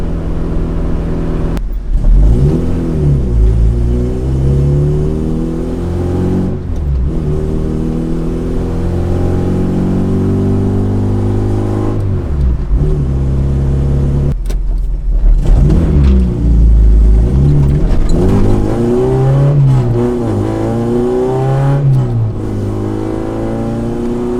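Acura RSX with a return-style fuel system accelerating on the road, its engine note rising steadily through the gears with brief dips at each shift, loud and close from inside the car.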